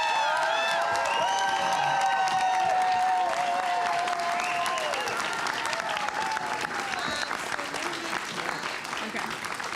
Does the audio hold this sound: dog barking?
no